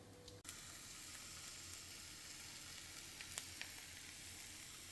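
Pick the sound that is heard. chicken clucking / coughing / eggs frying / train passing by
eggs frying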